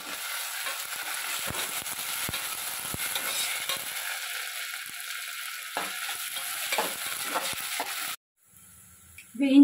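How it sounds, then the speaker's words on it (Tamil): Ginger garlic paste sautés in a pan with a dense sizzle and periodic scraping stirs, then the frying cuts out abruptly near the end, leaving near silence and a brief clatter. "இஞ்சி பூண்டு பேஸ்ட் சேர்த்து நல்ல பச்சை வாசனை போகிற வரைக்கும் வதக்கிக்கலாம்"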